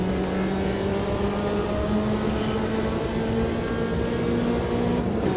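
A race car in the sim racing game Automobilista 2 climbs a hill with a steady, sustained engine drone at constant loud revs, no gear changes or pauses, and no talk.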